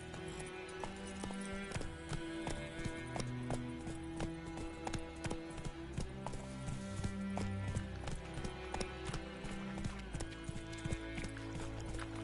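Galloping hooves of Roach, the horse from The Witcher game, a quick, even clip-clop that runs steadily under a prominent musical score and stays fairly quiet in the mix.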